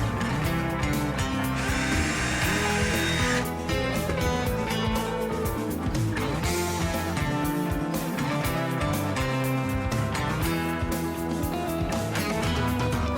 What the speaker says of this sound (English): Then I need to drill 4 holes for the fins.